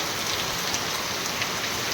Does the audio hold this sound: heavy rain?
yes